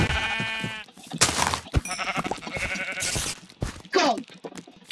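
Blocky sheep in Minecraft give several loud, wavering bleats in quick succession, close and clear, with a short bleat trailing near the end.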